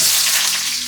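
Onions fry in a pan with a loud, steady sizzle and crackle heard up close, with no voices.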